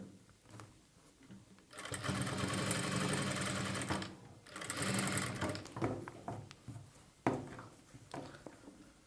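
A sewing machine slowly stitching piping onto blouse cloth, in two close whirring runs separated by a pause, then scattered taps and clicks as the fabric is adjusted.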